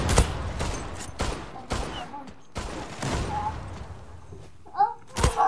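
Glock gunfire in a video game comes as several sharp, close shots spaced a second or so apart, with a brief burst near the end, heard under faint background game noise.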